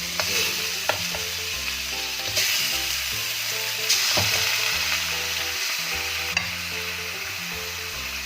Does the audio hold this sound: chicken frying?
yes